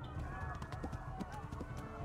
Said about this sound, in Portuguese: Esse cavalo pula, pula.